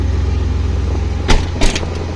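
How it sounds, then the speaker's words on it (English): A cold BMW 330ci, a manual car converted from a 320ci, idles with a steady low engine rumble after a few revs, with two brief louder bursts of sound near the end. "I'm revving the car when the engine is still cold"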